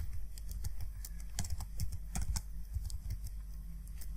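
Someone types on a computer keyboard, a quick irregular patter of crisp key clicks at close range with no talking over it.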